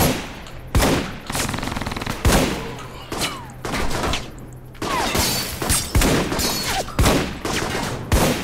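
Gunfire in the video game Alpha Protocol: loud, close bursts of automatic fire and single sharp shots in quick succession, with heavy thumps scattered among them, filling the whole stretch.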